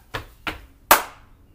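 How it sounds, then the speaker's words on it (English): Two dull stomps a fraction of a second apart, then one sharper, louder hand clap, close by and alone, done as a call-and-response round in an at-home kids' movement game. "can I get 2 stomps and a clap?"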